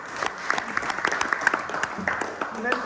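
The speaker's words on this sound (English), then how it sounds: "A huge round of applause." Audience applause in the Lord Mayor of Oxford's Council Chamber, moderate clapping from a modest crowd with distinct individual claps popping through, while a voice speaks over it.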